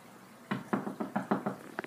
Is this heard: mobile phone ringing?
no